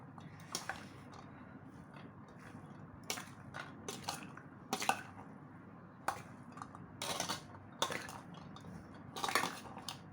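Millet salad seasoned with pepper is stirred in a bowl, giving quiet, irregular clinks and scrapes of a utensil against the dish close at hand, with no talking.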